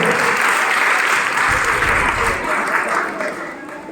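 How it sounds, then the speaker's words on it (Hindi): Sustained applause from a crowd of students and families at an annual felicitation ceremony at a coaching centre, a dense steady patter that fades slightly toward the end. "ताली बजाओ।"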